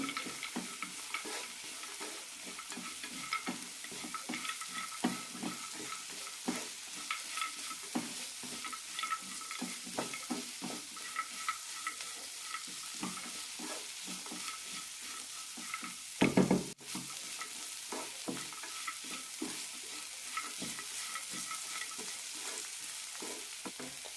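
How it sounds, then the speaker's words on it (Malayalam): Peanuts sauté in a pan for a peanut curry under a constant soft sizzle, with the repeated scrape and rustle of stirring. One sharper knock comes partway through, and no one speaks. "ഇനി ഇതിലേക്ക് കടലയിടാം അഞ്ച് മിനിറ്റ് വഴറ്റിയെടുക്കാം"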